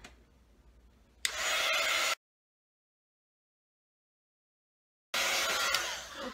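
A hair dryer or heat tool drying watercolour ink on a handmade birthday card blows in two loud steady bursts, about a second and a bit over a second, separated by a silent gap, with faint handling before.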